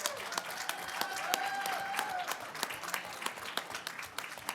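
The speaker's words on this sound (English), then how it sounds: "Applause for all of our sponsors" Conference attendees at a cybersecurity event in Atlanta clap for the sponsors, scattered distinct claps with a faint voice and a brief tone in the background, thinning out toward the end.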